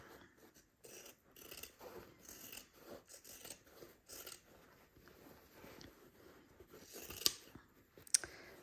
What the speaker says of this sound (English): do make sure you've got a nice sharp pair of fabric scissors